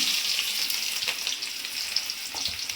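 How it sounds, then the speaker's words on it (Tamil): Chopped onions dropped into hot oil with popped mustard seeds, frying with a bright, continuous hiss and crackle close up, steady and fairly loud with faint stirring, no talking. "நம்ம இந்த வெட்டி வச்சுருக்க வெங்காயத்தை இதில் ஆட் பண்ணிக்கலாம்."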